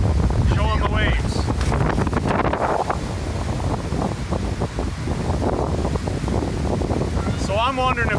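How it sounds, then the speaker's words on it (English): Strong gusty wind at a waterside park roars across the microphone in loud continuous buffeting, with waves faintly beneath and someone speaking intermittently over the rumble. "it is super windy out"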